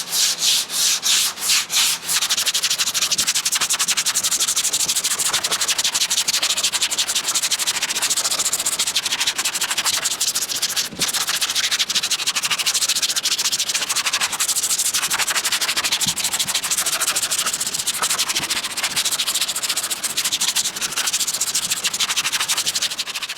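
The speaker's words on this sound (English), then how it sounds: "I'm barely even doing anything with the sandpaper." Steady, continuous abrasive rubbing of sandpaper on a block lightly worked across the steel body panel of a Datsun 280Z, a dense close hiss with brief scuffing strokes at the start, no voices.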